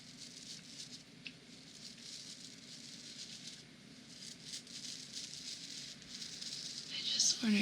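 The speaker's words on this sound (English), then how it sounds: "I love the way this dry brush sounds" A dry brush is swept over skin in soft, repeated rustling strokes, close and quiet, growing slightly louder toward the end.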